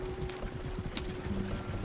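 Horses gallop with a rapid, rhythmic clip-clop of hooves in a Red Dead video game, heard under a steady low rumble and background music at moderate volume.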